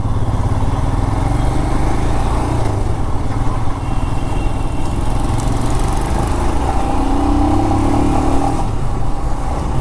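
Royal Enfield Scram 411 motorcycle being ridden, a steady loud engine drone with a low rumble and a brief rising pitch near the end, continuous throughout and dominating the recording.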